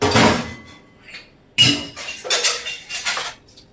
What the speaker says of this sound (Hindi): जो हमने पिया हुआ था चाय नाश्ते का, तो उसे मैं धुल लेती हूँ आराम से